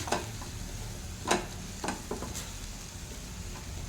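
Dry red chillies frying in a pan for spinach chutney, a faint sizzle broken by a few sharp ticks and pops of stirring, close and without talk.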